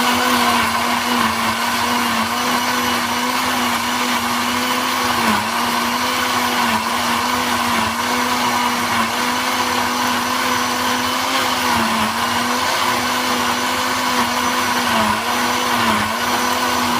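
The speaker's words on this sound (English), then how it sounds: "so my juice has finished blend." A blender whirs steadily while blending blackberry and pineapple juice with water, a loud continuous motor drone with slight pitch dips as the load shifts, with no talking over it.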